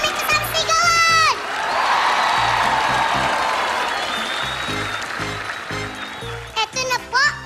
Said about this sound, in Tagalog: Palakpakan namin kasama sigawan!